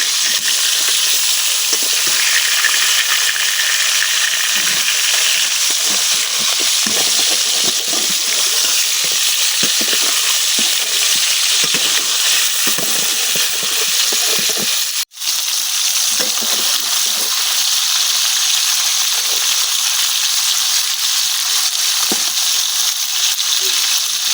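Broiler chicken meat fries in a pan with a loud, continuous sizzle that holds steady throughout, with one abrupt brief drop partway through.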